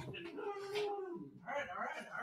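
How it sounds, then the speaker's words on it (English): A guard dog whimpers and yips close by in short, high, whining bursts, with a brief pause in the middle before it whines again. "We can come over and say hi to Tony so he's not barking at you."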